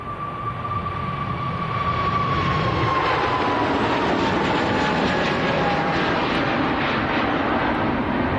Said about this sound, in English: Kuwait to Kuwait City,